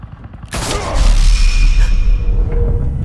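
Gunfire erupts in a Batman Telltale video game scene, a sudden loud burst of shots and booming impacts that swells and stays dense for a few seconds, with whooshing action sounds layered on top.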